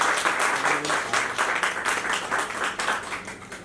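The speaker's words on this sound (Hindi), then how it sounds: "ताली में कंजूसी नहीं होनी चाहिए." Vigorous audience clapping for a film team at a movie launch event, loud and sustained with a rhythmic, pulsing quality throughout.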